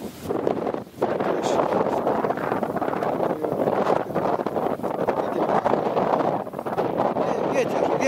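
Strong wind blows outdoors at a campfire spot and buffets the microphone with a continuous loud roar and rumble. It dips briefly once, and faint voices may sit underneath.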